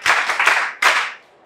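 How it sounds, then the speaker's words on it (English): A classroom of students claps for themselves, a dense burst of many hands that fades, then a second short surge of clapping that tails off. "I want you to clap for yourselves"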